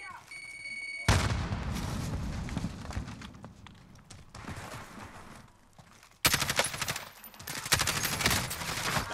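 Heavy gunfire from a VLK shotgun firing dragon breath rounds in Warzone Season 6 erupts in loud, rapid bursts, dense and booming, with a fresh volley kicking in partway through and players talking over it.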